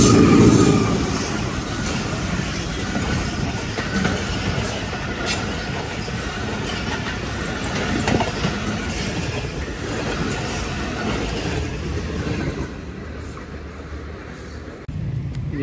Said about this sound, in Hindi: जी तो आ रही है ट्रेन